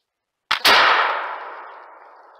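A flintlock rifle fires at a squirrel near an aspen tree outdoors: a short click and flash pop followed by one sharp, loud crack that decays slowly into a long ringing tail, alone with no talk.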